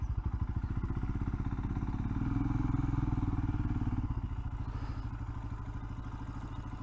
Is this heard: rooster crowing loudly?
no